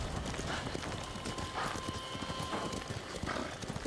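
Horse hooves clip-clop in the video game Ghost of Tsushima, a steady close rhythm of hoofbeats over a busy game soundscape.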